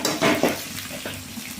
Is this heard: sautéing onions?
yes